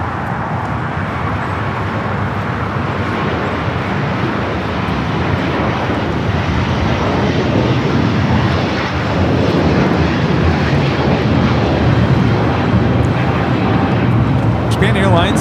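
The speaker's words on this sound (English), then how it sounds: "Japan Airlines Flight 15 taking off to Tokyo Haneda on the A350-1000." A Japan Airlines Airbus A350-1000 bound for Tokyo Haneda takes off from LAX with a loud, broad jet-engine roar that holds and builds through the climb-out, with people talking over it.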